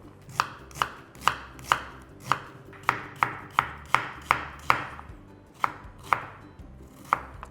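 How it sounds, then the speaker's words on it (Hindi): A knife chops an onion into large pieces on a board, giving about sixteen crisp, evenly spaced thuds up close. No voices are heard. "बारीक काटने की जरूरत नहीं है, यूं बड़ा बड़ा इसे काट लीजिए।"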